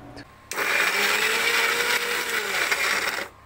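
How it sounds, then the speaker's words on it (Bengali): A kitchen mixer grinder whirs loudly as it blends raw mango into a batter, starting abruptly, holding a steady high-pitched motor whine for about three seconds, then cutting off. "তো ফাইনালি আমাদের মিক্সিতে আম বাটার জন্য আমাদের মিক্সির যে কন্টেনারটা আছে সেটা লাগানো হলো।"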